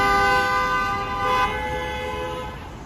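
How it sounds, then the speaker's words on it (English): A car horn blares in one long sustained honk on a busy New York City street in Chelsea, Manhattan, loud and close, fading slightly toward the end amid traffic noise. "Honking for no reason sometimes."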